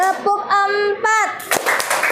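Children in a classroom clap their hands in counted claps, a few sharp claps breaking through chanted young voices that dominate the moment.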